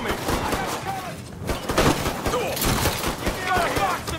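Shotgun gunfire in the video game Mafia 3, a dense run of sharp blasts spread through the clip, with a voice talking over it throughout.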